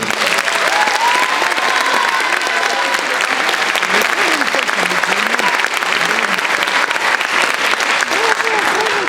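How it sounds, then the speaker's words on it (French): Loud, dense applause from a recital audience for a choir's soprano section, continuous and close throughout, with voices and cheers faintly mixed into the clapping. "On vous propose donc d'applaudir le pupitre de soprano."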